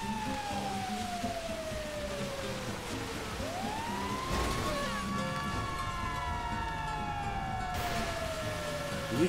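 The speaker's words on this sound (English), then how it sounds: "A freaking fire engine." A fire engine siren in GTA V wails steadily throughout, sweeping down and back up in long tones over a dense mix of in-game traffic and engine noise.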